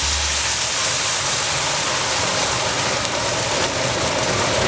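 Red wine is poured into a hot pan of cooked tomato puree and sizzles. A loud, dense, steady hiss fills the whole span.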